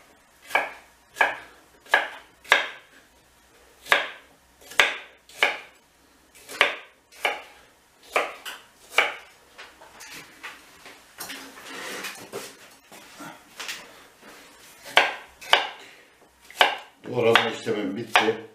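A knife chops pumpkin flesh into cubes on a cutting board, sharp rhythmic cuts at a steady pace, close and loud, with a denser flurry of clatter near the end.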